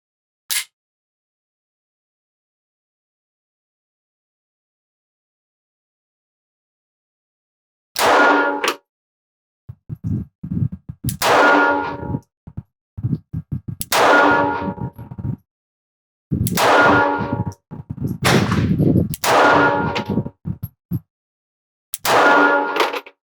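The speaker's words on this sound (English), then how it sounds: "Hellcat 380 center target, 10 shots." A Springfield Hellcat 380 pistol fires ten shots at a target in a loose, uneven string after several seconds of silence, each report sharp and loud with a short ringing tail.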